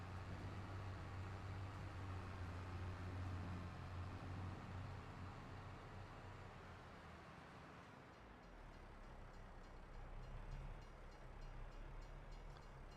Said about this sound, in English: Oh, there's the train.